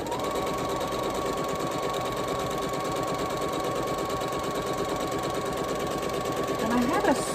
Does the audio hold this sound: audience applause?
no